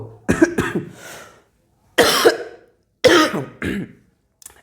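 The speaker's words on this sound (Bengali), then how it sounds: "এরকম একটু কাশি হবে একটু অ্যাডজাস্ট করে নিও" A person coughing in bursts, a double cough followed by two separate single coughs with silent gaps between, close and loud, ending with a faint throat sound.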